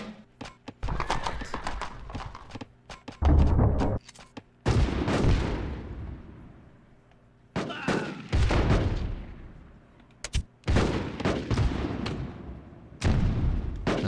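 Artillery fire in the strategy video game Rise of Nations sounds as a string of sharp booming blasts, some clustered and some spaced a few seconds apart, mixed with other battle effects and occasional faint game sounds.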